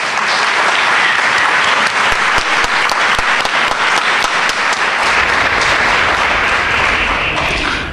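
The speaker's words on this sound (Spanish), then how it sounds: "un fuerte aplauso para él" A crowd applauds a live singer-songwriter's performance, loud dense clapping that holds steady and unbroken from start to finish.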